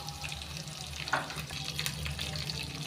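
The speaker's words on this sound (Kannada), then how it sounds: "ಈಗ ಈರುಳ್ಳಿ ಹಾಕ್ಕೊತಾ ಇದ್ದೀನಿ, ಮೆಣಸಿನ್ಕಾಯಿ ಹಾಕ್ಕೊತಾ ಇದ್ದೀನಿ" Onions and green chillies fry in a pan, making a continuous, gentle hiss with a low background hum and a few soft clinks.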